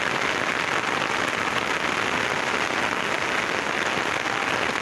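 Heavy rain pours steadily and loudly in a dense, unbroken hiss with no voices, a constant wash of drops striking surfaces close by.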